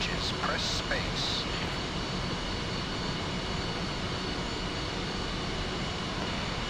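Twin jet engines of an F-5E idle in a cold-start sequence in the DCS flight simulator, a loud, steady broadband roar with an airy whine throughout, broken early by a few short high electronic beeps.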